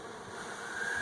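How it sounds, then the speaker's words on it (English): Honey bees buzz continuously at a hive feeder, a close, steady drone without breaks. "a healthy bee will get out of that every time"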